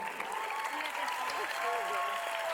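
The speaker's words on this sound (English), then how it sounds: "Big round of applause for these guys, Shane and Nerida." A television dance-competition audience applauds steadily throughout, a dense wash of clapping with a faint voice beneath it.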